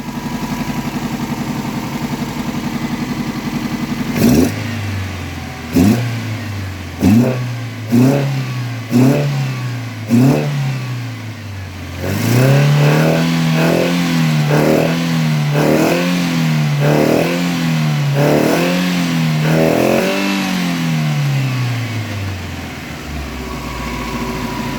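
A carbureted Toyota Corolla 4A-F engine with Solex carbs revs in a series of sharp blips that rise and fall, then holds a longer sustained rev with rapid throttle pulses before settling back, loud and close.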